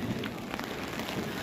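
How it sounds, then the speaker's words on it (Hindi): On New Year's night, heavy rain hisses steadily and densely nearby, a constant wash of sound with faint soft thumps under it and no voices. "और बारिश बहुत स्पीड से है"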